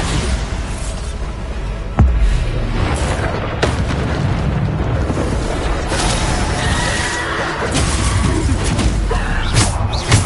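Repeated Bombarda blasting-spell explosions in a wizard video game, loud booming bursts over dense continuous game noise, with a sharp heavy blast around the second mark and further rumbling impacts throughout.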